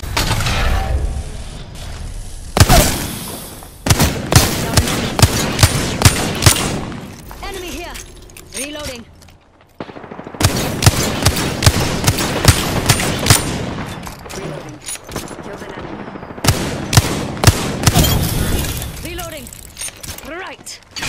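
Apex Legends gunfire in a ranked match, with repeated bursts of rapid shots broken by short pauses and reload mechanisms, while a voice talks intermittently over the fighting.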